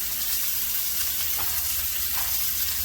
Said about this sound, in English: Because we're going to sear these up.